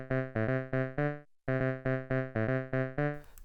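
Short plucky notes from a PO-14 pocket synthesizer in a quick repeating pattern with a brief pause, some pitched up, ending in a burst of noisy static.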